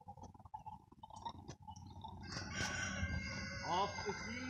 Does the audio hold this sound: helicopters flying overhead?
no